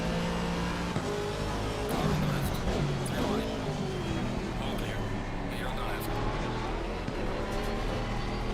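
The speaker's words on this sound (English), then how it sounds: "Look at that Porsche go." A Porsche race car in a racing sim at Paul Ricard or Imola, its engine droning loud and steady with gear changes and revs rising and falling throughout, while a voice talks over it.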